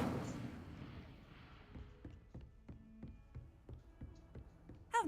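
Incendio fire spell effect in a Hogwarts video game: a burst of whooshing flame at the start, then a series of soft rhythmic thuds and crackles fading away, ending with a brief bright sparkle.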